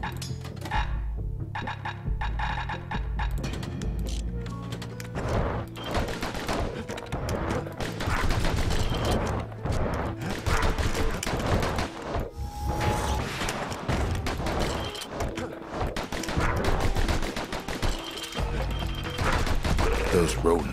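Rapid bursts of gunfire from the player's weapon in the action game Bastion, dense and loud over a busy game music bed, with someone talking intermittently over the shooting.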